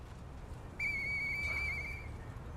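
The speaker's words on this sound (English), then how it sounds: "I know that whistle." A single sustained whistle in the video game Lies of P, a clear bright tone held for over a second with slight wavering, rising alone over quiet background.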